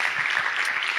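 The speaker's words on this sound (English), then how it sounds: "Round of applause one last time," Steady applause from a lecture audience after student app presentations in a university class, a continuous dense patter of clapping hands filling the room.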